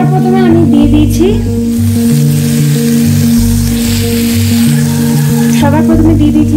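Diced potatoes frying in hot white cooking oil for a paneer dish, a loud, steady close-up sizzle with crackling bursts running throughout, with faint clatter of stirring.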